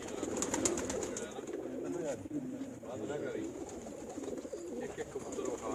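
Pigeons coo steadily on a rooftop loft in Kharian, a low, continuous burbling close by, with people talking over it throughout.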